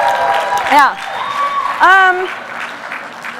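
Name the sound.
audience clapping and applause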